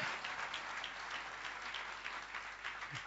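A church congregation at a Friday service claps together in a sustained burst of applause, steady and fairly full throughout, with no voices standing out.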